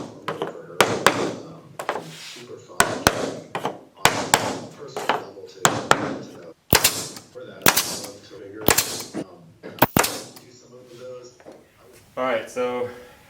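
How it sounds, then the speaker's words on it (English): Sharp, loud hammer blows drive nails into wood in irregular bursts, a dozen or so close impacts, with someone talking in between, while building a camper trailer door. "then we can glue and nail it in"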